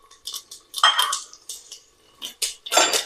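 Metal spoon clattering and scraping against a pressure cooker on a gas flame while whole spices are mixed, a series of sharp close clinks and scrapes in uneven bursts.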